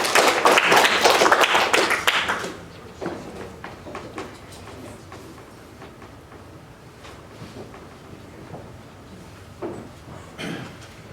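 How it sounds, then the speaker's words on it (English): An audience at a Christmas stage show claps in a loud burst that quickly fades to scattered, sparse claps and quiet room noise. "Please give them a round of applause."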